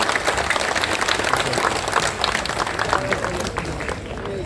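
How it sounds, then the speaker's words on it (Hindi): A crowd at a political rally claps together for former chief minister Biplab Kumar Deb, a steady dense wash of clapping held at an even level throughout, with murmuring voices mixed in. "सब लोग जोर से ताली देकर उनका स्वागत कीजिए"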